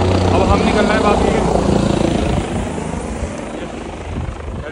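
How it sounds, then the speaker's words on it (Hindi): A helicopter flying near Kedarnath in the Himalayas, a loud, close rotor thrum that eases and fades after a few seconds while people talk nearby. "हेलीकॉप्टर की नॉइस"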